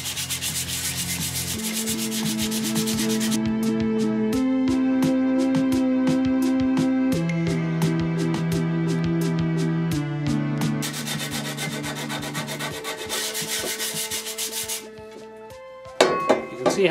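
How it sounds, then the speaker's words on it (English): Rust being sanded off metal garden tools, with steady abrasive rubbing strokes close by and a repeating clicking rhythm under a loud sustained tone, with no talking. "Sanding the rust off"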